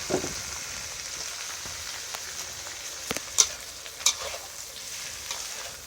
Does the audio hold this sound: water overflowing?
no